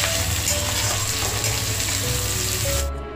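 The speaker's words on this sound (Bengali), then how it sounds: "পেঁয়াজটা হালকা লাল করে ভেজে নেব" Sliced onions fry in a pan for a biryani-style prawn pulao, a steady dense sizzle that carries on evenly, then cuts off abruptly just before the end.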